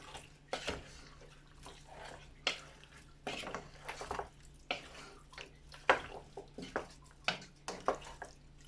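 Chicken cooked with butter and garlic, stirred in a pan: a run of irregular scraping and clinking of a utensil against metal at close range, with a faint sizzle underneath.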